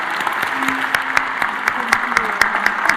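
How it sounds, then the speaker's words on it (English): Audience applause for Ivanka Trump and Administrator McMahon at a small business event, a busy spread of clapping with sharper individual claps standing out, and voices talking faintly underneath. "If we give one more round of applause to Ivanka Trump and Administrator McMahon."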